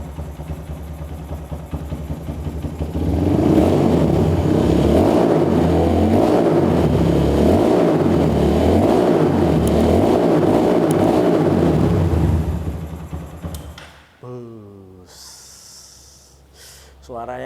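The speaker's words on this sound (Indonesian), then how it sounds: "Kita coba gimana ya suaranya si Verza yang sudah di bore up ini." A bored-up Suzuki Verza motorcycle engine idles and then is blipped in a quick run of rhythmic revs, loud and close, before dropping back to idle.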